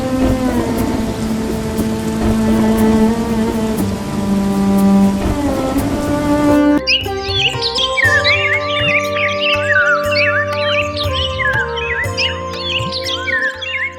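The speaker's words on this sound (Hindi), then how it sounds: "सुबह का समय, बारिश अब हल्की हो गई है।" Rain falls in a 2D animated Hindi story, easing off toward morning: a dense, steady patter with distant rumbles, then chirping birds and soft tonal notes join as the rain thins.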